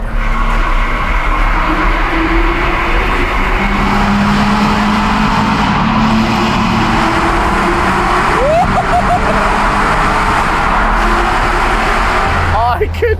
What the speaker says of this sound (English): With the sound of Rory's V8 still thundering through most of Dover